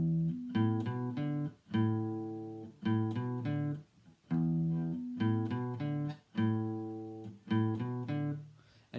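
A mid-90s riff rings out on a guitar's bottom three strings with open strings, a choppy run of crisp, cut-short notes repeated in bursts, close and alone.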